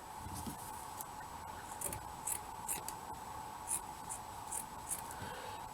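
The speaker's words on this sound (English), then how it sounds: "what I'm going to do is cut a piece of felt" Scissors snipping through a piece of felt, a series of short crisp cuts spaced irregularly at close range over a steady background hum, with no talking.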